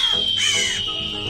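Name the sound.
crows cawing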